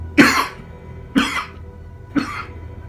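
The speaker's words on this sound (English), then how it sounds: "forget that coughing fit" A person has a coughing fit: three separate, forceful coughs spaced about a second apart, close and fairly loud, each with a harsh rasp tailing off, and no talk between them.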